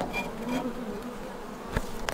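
Honeybees flying around a hive at a village apiary in the Russian countryside, a steady close buzzing drone with no voices.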